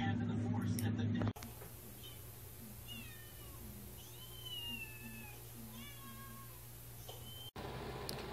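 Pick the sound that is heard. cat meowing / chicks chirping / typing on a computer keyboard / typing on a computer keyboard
cat meowing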